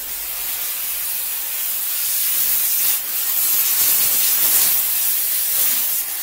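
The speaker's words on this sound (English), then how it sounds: "So we're going to turn the steamer on." A continuous loud hiss of spraying steam from a 125 PSI steam cleaner used on a car, bright and airy, rising a little in intensity partway through with no speech.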